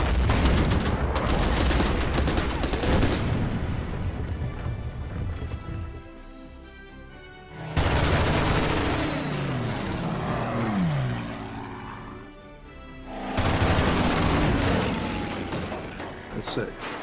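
Bursts of video game gunfire mixed with droning aircraft engines come in heavy waves, broken by quieter stretches where a voice talks.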